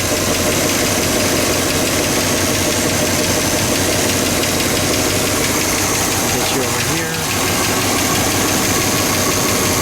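A 1967 AMC Marlin's 343 Typhoon engine idles loudly and steadily with a rough, throbbing rumble, while a person says a few words partway through.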